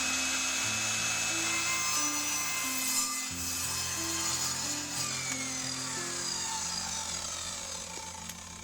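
Steady, continuous cutting through a wooden board for the side of a homemade hot compost bin, loud and close with a rough, grinding texture throughout and no talking.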